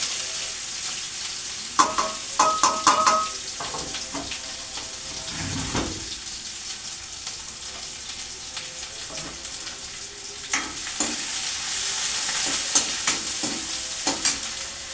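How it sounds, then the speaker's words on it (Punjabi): Cumin and onion dropped into hot oil, sizzling steadily with a few sharp clatters and stirring scrapes near the start, heard close up without talk. "ਤੇਲ ਜਿਹੜਾ ਆਪਣਾ ਗਰਮ ਹੋ ਗਿਆ ਇਹਦੇ ਚ ਪਾਉਂਗੇ ਆਪਾਂ ਜੀਰਾ ਨਾਲ ਪਾ ਕੇ ਪਿਆਜ਼"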